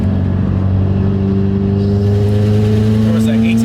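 A 2016 Subaru WRX engine with a Stage 3 tune and 100,000 miles revs hard under acceleration, its deep droning pitch climbing steadily, loud and close as from inside the vehicle.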